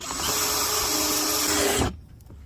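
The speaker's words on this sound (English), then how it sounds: "then we can move that pulley out of the way and drill our second hole." A power drill whines steadily at high speed for about two seconds, drilling a hole in a kayak to mount an anchor trolley, loud and close, then cuts off abruptly, leaving a quiet room.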